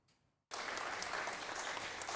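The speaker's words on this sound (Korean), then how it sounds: "원자폭탄 피해자들과 유족 10여 명이 큰 박수로 환영합니다" Some ten atomic bomb survivors and bereaved relatives in Hiroshima welcome the South Korean president with steady, dense applause that starts abruptly after a quiet moment and continues without letup.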